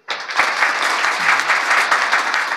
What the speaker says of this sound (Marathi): हां वाजवा एकदा जोरात टाळी.